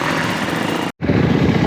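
A KTM motorcycle engine drones loudly and continuously up close, cuts out for a split second, then resumes as the bike rides off on a track.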